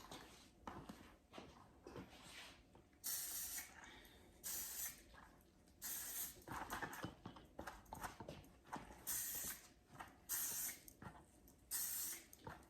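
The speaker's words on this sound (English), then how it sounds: "We're going to spray that at the root." Short bursts of hissing spray from an aerosol hair product sprayed at the hair roots, repeated about six times at irregular intervals, fairly close and loud against a faint background.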